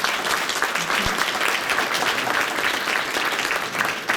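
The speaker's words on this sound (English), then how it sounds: "Let's give them a round of applause," Sustained applause from members at an annual membership meeting honoring past board members, a dense steady wash of many hands clapping at even loudness, close and continuous for the whole stretch.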